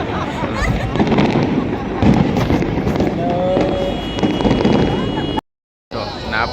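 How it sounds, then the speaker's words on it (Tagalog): Long fireworks display at Al Majaz in Sharjah, UAE, with continuous dense crackling bursts and booms near and far, while people talk over it, ending in a short silence. "napakaganda ng fireworks"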